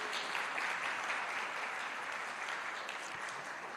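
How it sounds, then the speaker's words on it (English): Audience applause at the official launch of the Jamaica Legal Information Portal, a sustained wash of many hands clapping at moderate distance, fairly steady and slowly tapering, with no speech over it. "give her a round of applause"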